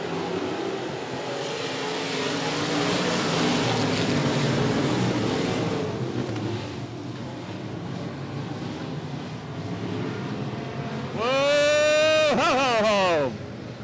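Limited modified stock cars roar around the 105 Speedway race track, a sustained engine drone that swells and recedes as the cars pass, with a loud announcer's voice over it and cheering near the end.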